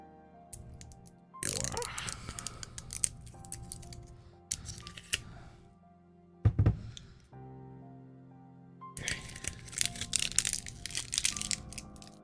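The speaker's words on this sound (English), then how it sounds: "Sorry about the crinkling, if that came across." Loud bursts of crinkling and crushing from handled packaging, crackling in separate bouts with quiet gaps between them and one sharp crunch in the middle, close to the listener.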